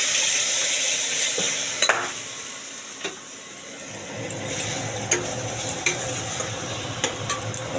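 Raw banana peel paste sizzles in hot oil with nigella seeds, a steady hiss broken by sharp scrapes and taps of a stirring utensil against the pan, fairly close; no talk.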